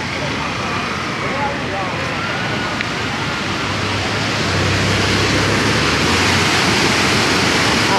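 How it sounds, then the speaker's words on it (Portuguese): High, fast-flowing water of the São Francisco River, swollen after a rise in volume, rushing in a steady broadband roar that stays loud and continuous throughout, growing slightly fuller toward the end. "as águas que tá descendo é muita"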